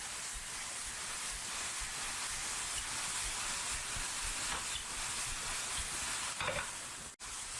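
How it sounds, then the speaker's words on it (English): Asparagus and mushrooms sizzle loudly and evenly in a hot pan while being stirred with a little salt, a dense hissing crackle close by that cuts out abruptly near the end, with no voices. "Really stir that in well."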